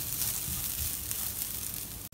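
Coconut mixture sautéing in a pan for a Kerala-style spinach thoran, giving a steady, close sizzle with soft stirring scrapes, broken by a brief dropout near the end.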